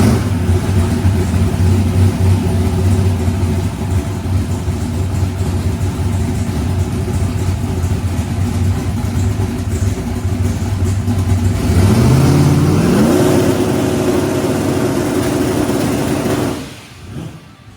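A boosted big-block Chevy with Holley EFI drones loudly and steadily up close, then revs up sharply near the end before the engine note suddenly cuts off, with no talking.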